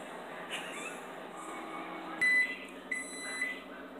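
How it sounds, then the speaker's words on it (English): A microwave oven emits a loud electronic beep amid light background clatter, followed by a couple of softer tones. "Just heard the microwave beep."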